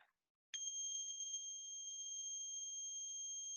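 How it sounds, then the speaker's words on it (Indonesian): A steady, high-pitched electronic buzzer tone on a robotics circuit, triggered by pressing a button, starts abruptly and holds continuously, clear and unwavering, with nothing else around it. "Kemudian kita copot, kita lepas, buzzer akan mati."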